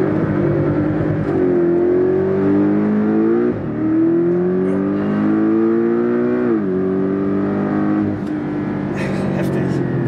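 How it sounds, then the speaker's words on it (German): A Porsche in Sport Plus mode does a launch control start near Malaga, its engine revving loudly and climbing through several gear changes with rising and dropping whine, close and sustained; someone speaks over it. "Jetzt machen wir einmal Launch Control. Bei Porsche einfach in Sport Plus gehen."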